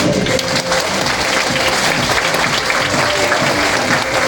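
A group in an exercise class clapping hard together, a dense, loud, sustained roar of applause filling the room for several seconds with no gaps.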